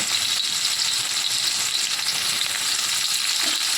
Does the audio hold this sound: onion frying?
yes